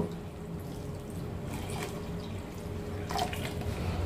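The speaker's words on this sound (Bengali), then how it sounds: "এবার পরিমাণ মতো জল আমি এখানে দিয়ে দেব।" Water running and splashing into a pan of soaked lentils for dim dal, a steady pour with a brief brighter splash near the end, fairly quiet and without talk.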